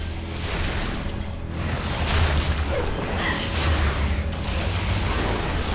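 Missile explosions striking a creature in Metroid Prime 3, a continuous rumbling wash of low booms with a few duller impacts rising out of it, steady and fairly loud throughout.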